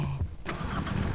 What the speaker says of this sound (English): I stole their delivery truck.